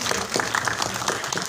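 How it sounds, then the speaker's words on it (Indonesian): Audience at a film press conference in Indonesia applauding, a short burst of scattered, fairly quiet hand claps at close range. "Boleh sekali kita berikan tepuk tangan?"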